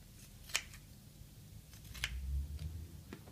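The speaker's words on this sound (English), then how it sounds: "Then there's a cut in the centre, and then cut strips." Scissors snip kinesiology tape into strips with a few quiet, isolated cuts spaced about a second or more apart, close by against a soft low rumble.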